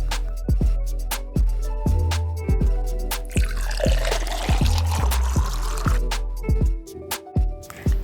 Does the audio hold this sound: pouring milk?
yes